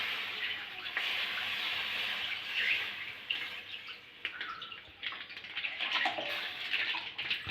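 Milk pours into a wok holding a little water for dudh shemai, a steady splashing, hissing stream lasting throughout, close and fairly loud.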